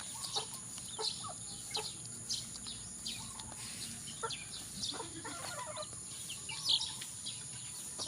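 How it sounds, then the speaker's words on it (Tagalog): Chickens clucking in a farmyard, with repeated short calls and chatter at close to moderate distance over a steady background of insects and faint birdsong. "Galing ng mga chicken"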